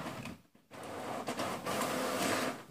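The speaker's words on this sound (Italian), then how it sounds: "Ecco che sta stampando." A wifi printer prints a page, whirring and clattering mechanically in uneven bursts with a brief pause, moderately close and without talk.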